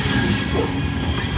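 A Norfolk Southern manifest freight train with tank cars and an open boxcar rolls steadily past nearby, a continuous loud low rumble of wheels and cars with no break.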